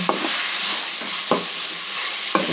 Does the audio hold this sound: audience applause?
no